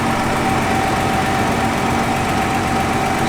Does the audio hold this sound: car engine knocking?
yes